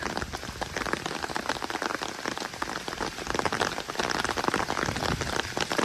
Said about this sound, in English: this is central Norwich in a thunderstorm.